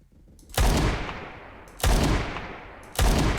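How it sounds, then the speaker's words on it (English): Revolver fire in the Roblox first-person shooter, three loud, sharp shots spaced roughly a second apart, each with a long ringing decay; no voices. "I'm crazy with this revolver."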